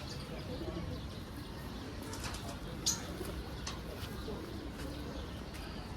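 Army pigeons coo softly in a loft amid faint chirps and low background murmuring, with voices talking nearby.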